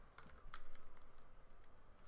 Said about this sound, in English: I think I leant on my keyboard.